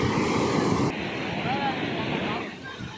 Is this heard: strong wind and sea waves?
yes